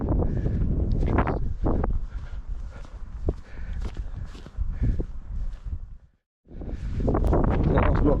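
Breezy wind buffets the microphone on an exposed hilltop walk near Alport Castle in the Peak District. Low rumbling gusts run continuously with brief scuffs of footsteps, dropping out for a moment before returning strongly.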